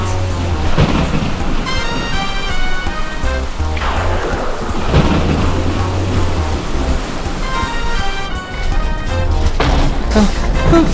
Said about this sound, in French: ils ont été pris dans une tempête